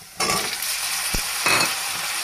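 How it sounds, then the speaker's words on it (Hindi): Sliced onions frying slowly in a pan for a Sindhi mixed vegetable dish, a steady close sizzle broken by one short low knock and a brighter burst of frying near the end. "अब ये प्याज स्लोली फ्राई हो रहा है।"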